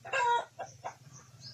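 Backyard poultry chickens on a small egg-laying farm clucking close by, a burst of loud clucks followed by two shorter, softer calls over low background hum, with no voices.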